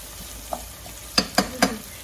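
Lentil soup with zucchini and potatoes, cumin just added, gets stirred in a pot: a soft sizzle under three quick, distinct spoon scrapes and taps close up, no talking.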